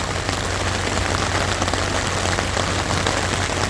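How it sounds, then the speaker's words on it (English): Steady rain drums on a tent at Oshkosh 2023, a dense, loud, even patter heard close up from inside with no talking. "Oshkosh in the rain"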